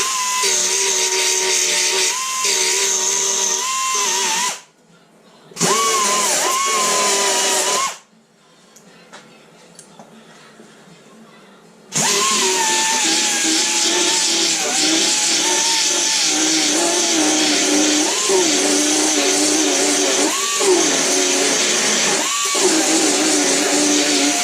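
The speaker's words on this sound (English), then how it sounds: "I just need to give it a little grinding to get some clean metal" Angle grinder cleaning rusty metal on a Rover P5B Coupe nearside door before welding, loud whining grind with wavering pitch, cut by two short pauses and a quieter stretch before resuming steadily.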